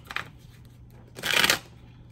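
Tarot cards riffled in one real shuffle, a short papery burst of rapid flicks at close range after a quieter faint flutter, with no talking.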